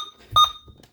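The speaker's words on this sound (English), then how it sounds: "Oh God, please don't beep at me again" A Chromebook gives a short, loud electronic beep while entering developer mode with OS verification turned off, heard once and close against a quiet background.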